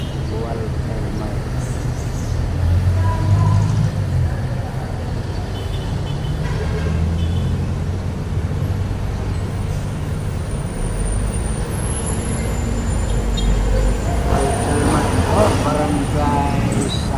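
Steady road traffic with passing buses and cars along Emilio Aguinaldo Highway near Tagaytay, a continuous loud rumble of engines close by, with a voice talking over it throughout.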